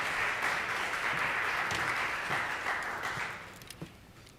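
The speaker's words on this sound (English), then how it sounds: "Can we give her a round of applause?" A crowd at a school 8th grade academic awards ceremony applauds steadily for about four seconds before the clapping thins out, heard from a distance in a large room.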